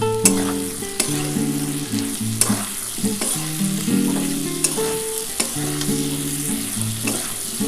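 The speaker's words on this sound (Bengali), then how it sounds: "এবার এর মধ্যে আমি কিন্তু গোটা এলাচ দানা দিয়ে দিচ্ছি।" Whole cardamom pods frying in hot oil in a pan for a vegetarian cauliflower curry, giving a steady close sizzle with stirring, under a layer of background music.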